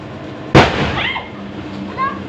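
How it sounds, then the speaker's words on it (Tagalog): A single sharp, loud bang rings out as a vehicle tire bursts nearby, followed by a short fading rumble over steady outdoor background noise. "Sumabog na gulong."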